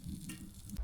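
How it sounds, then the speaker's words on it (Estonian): Food sizzles steadily in a newly bought frying pan at a winter campsite in snowy South Estonia, a brief close crackle and hiss with no talk. "Lasen neil siin särisema minna"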